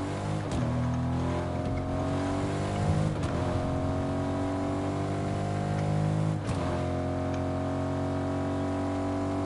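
A car drives in the video game Fortnite. The engine drones loudly and steadily with a rising whine, and it drops with a sharp gear-shift or bump every few seconds, with no voices over it.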